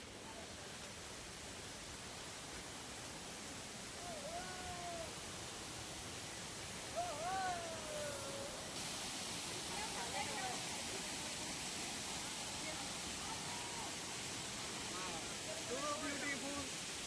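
Water pouring down the Deo Jharan waterfall in a steady, broadband rush that runs the whole time without letup, with faint voices and scattered outdoor sounds in the background.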